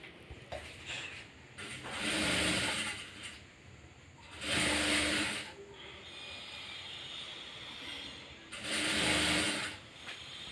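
A sewing machine stitching a blouse sleeve runs in three separate bursts of whirring. Each burst lasts a second or two, with quieter pauses between them as the fabric is guided along.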